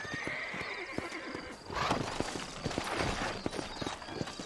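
A horse in the Western video game Red Dead Redemption, set in New Austin, whinnies loudly midway while hooves clip-clop steadily throughout over a busy ambient game soundscape.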